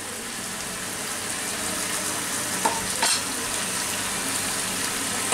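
Chicken frying in a pan with whole cumin seeds gives a steady, close sizzle throughout, with a couple of brief stirring or clattering accents partway through.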